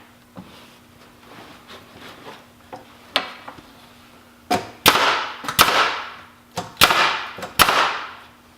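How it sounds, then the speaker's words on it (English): A finish nail gun fires repeatedly while a heavy-duty work bench is assembled: several sharp, loud pneumatic bangs, closely spaced in the second half, with fainter clicks and handling noise before them. "I'm just using the finish gun to just put everything where I want it"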